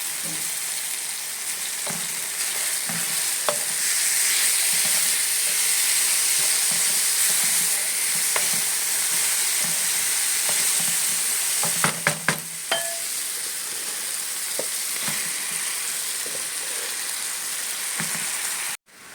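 Mustard leaves cooking with tuna sardines in a pan, a loud steady sizzle and hiss of steam running throughout, broken by a few sharp clacks of stirring near the middle.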